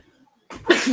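A single sharp sneeze bursts out after half a second of near silence, loud and close, during a football post-match discussion of a Belgium versus France Nations League semi-final.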